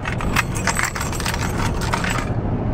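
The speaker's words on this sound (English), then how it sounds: "Got the keys to the house." A bunch of house keys jangles close up in a rapid metallic rattle that goes on for a couple of seconds before stopping, with a low background hum beneath it.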